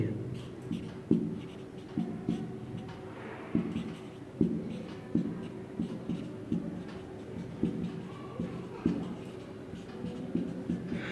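Handwriting of a class 10 geometry solution on circles: steady, rhythmic pen strokes and taps repeating for about eleven seconds, close and distinct.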